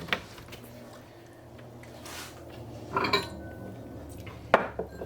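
Ceramic and glass bowls clink and knock against each other as they are gathered on a kitchen counter for colouring cake frosting, a few sharp clatters standing out over quiet background noise.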